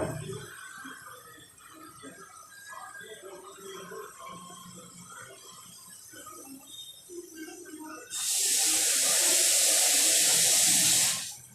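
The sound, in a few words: water being poured into puri bhaji gravy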